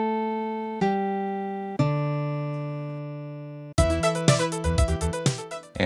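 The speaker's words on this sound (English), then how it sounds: "As opposed to the synthesized sound" Synthesized music from the DOS game Stunt Island running in DOSBox: sustained tonal notes changing every second or so, then a busier passage of rapid repeated chords, with no talk.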